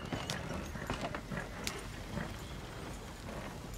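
Horses gallop in the Red Dead Redemption 2 video game, their hooves giving a steady, faint patter of clip-clop beats over a low rumble. The sound stays soft and continuous with no speech.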